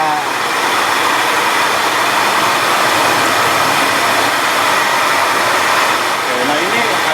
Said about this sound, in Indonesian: Proses ini kita masuk ke mesin gilingan.